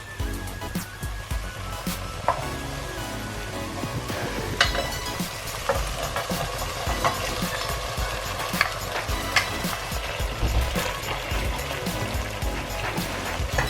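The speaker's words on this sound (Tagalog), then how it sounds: "Haluin lang natin ang ating mushroom para ito ay maluto." Mushrooms and tuna fry in a pan for tuna carbonara while being stirred, giving a steady close sizzle broken by scattered scraping and clinks of the utensil, with no voices over it.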